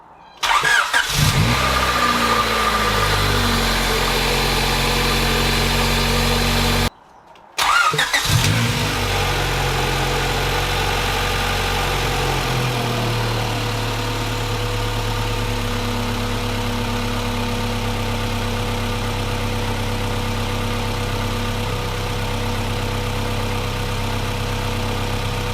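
A Honda Civic EG, its cooling system just bled, cranks and fires up, then settles into a steady, close idle that stays loud and even, with one brief dropout early on.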